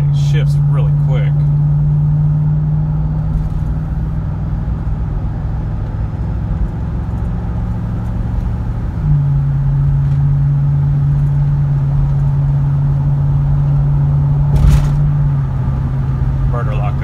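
A 2003 Chevrolet Suburban with a rebuilt 4L60E transmission drives steadily, its engine droning in a low, even hum that shifts pitch once midway. A person talks over the engine noise.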